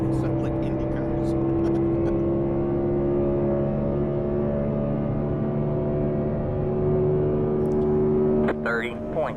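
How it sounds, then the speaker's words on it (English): Race cars roar steadily around a short track, dense engine drone with sustained harmonic tones throughout, close and loud, ending with a brief higher rev burst near the end. "we're 3 and 4 sound like Indy cars"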